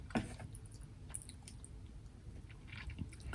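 Sushi from a platter is chewed close to the microphone, giving soft, wet, squishy mastication with faint irregular clicks and no talking.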